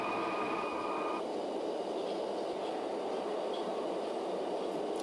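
A London Underground District Line train in the OpenBVE train simulator game running along the track with a steady, dense rolling rumble, and a brief high tone at the start that stops early on.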